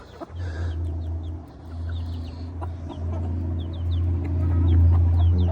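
Several chickens cluck steadily over a constant low hum, with short clucks repeating throughout, fairly close and moderately loud, no talking.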